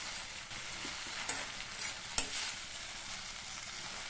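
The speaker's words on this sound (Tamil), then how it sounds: "அது கூட க்ளீன் பண்ண 2 கைப்பிடி அளவு புதினாவை சேர்த்துட்டு நல்லா இந்த மாதிரி பரட்டி விட்டுருங்க." Mint leaves being stirred and sautéed with tomatoes in a pan for chutney, giving a steady soft sizzle with a few scraping stirs and one sharp utensil knock, close and alone without talk.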